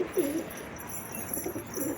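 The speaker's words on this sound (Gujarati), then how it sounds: "અહીંયા આપણા કબૂતર જોઈ લ્યો" Pigeons coo softly on a home rooftop, a few low rounded calls close by, with faint background noise and no talking.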